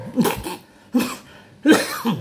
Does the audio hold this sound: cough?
yes